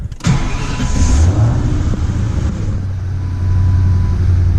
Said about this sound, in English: it freaking starts and idles and runs really well